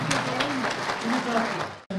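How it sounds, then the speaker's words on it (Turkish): Audience applause at a Turkish ceremony where a plaque is being presented, a steady dense wash of clapping with voices mixed in, cutting off abruptly just before the end. "Güçlü bir alkış istiyoruz."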